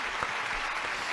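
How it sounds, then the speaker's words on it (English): Steady applause from a crowd at a live show, continuous and fairly even across the short stretch with no voices standing out. "I'm going to give her a round of applause."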